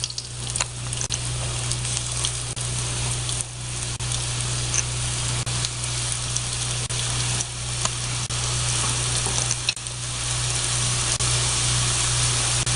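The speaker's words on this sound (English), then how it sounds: "See when you put the piece, see how it sizzle?" Steady loud sizzling of chicken pieces browning in a frying pan, a continuous crackling hiss with occasional pops, close up.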